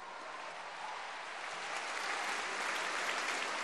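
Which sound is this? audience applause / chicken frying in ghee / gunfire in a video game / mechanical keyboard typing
audience applause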